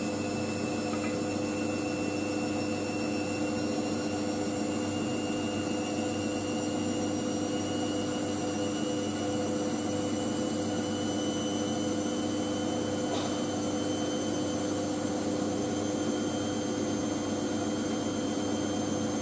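An Indesit IWC6165 washing machine spins at 450 RPM with a steady mechanical hum and layered motor whine tones, droning evenly and loudly for the whole stretch without voices.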